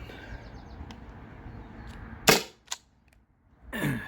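A Byrna SD launcher powered by an 8-gram CO2 cartridge fires two sharp, loud cracks a fraction of a second apart, followed by a softer hissing burst near the end, heard close with no talk.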